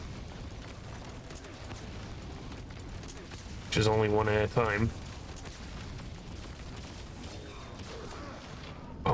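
A hand cannon fires in the video game Metal Gear Solid V, booming, rumbling blasts that run under the whole stretch, while someone talks over them midway.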